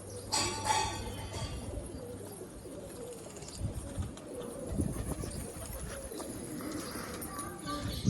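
Pigeons coo near a coop as its boxes are opened and the birds come out, soft repeated low calls under a steady background rustle with a few louder knocks.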